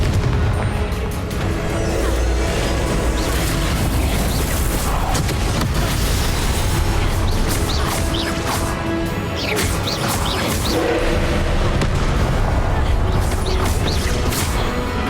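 Confringo spell blasts boom in Hogwarts Legacy amid constant dense combat noise, with repeated crashing impacts layered under a loud, busy mix and no clear pauses.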